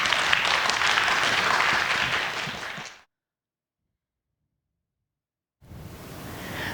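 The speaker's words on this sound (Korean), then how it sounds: "예, 박수로 모실까요?" Audience applause in a church lecture hall welcoming a reader to a letter-reading event, broad clapping from many hands that cuts off abruptly to silence midway, then resumes as crowd noise returns.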